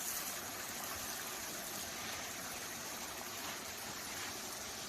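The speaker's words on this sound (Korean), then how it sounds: "돌에다가 물을 주고 있습니다" Water being poured onto stones on a rural plot in November, making a steady close rushing and splashing wash like a small stream, with no talking.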